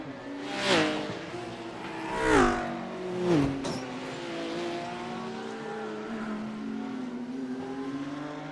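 GT3 race cars in a sim racing game, engines screaming through three rising and falling gear sweeps as cars pass close, then settling into a steadier high whine; loud, with no talk.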